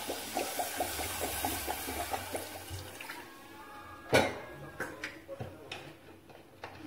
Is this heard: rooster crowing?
no